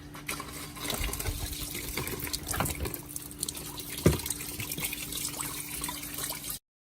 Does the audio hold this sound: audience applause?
no